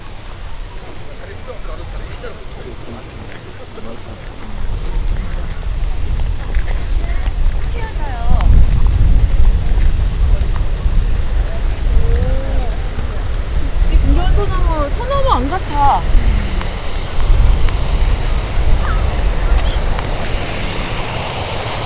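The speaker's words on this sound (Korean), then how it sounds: "시원한 폭포가 있네요" A waterfall at Hwagae Garden on Gyodongdo island, Ganghwa, gives off a steady broad rushing wash that swells slightly, heard from a short distance with light wind and a person speaking over it.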